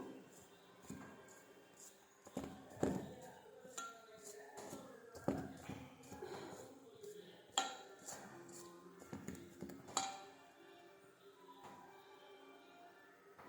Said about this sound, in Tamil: இதை நல்லா கிளறிடுவோம்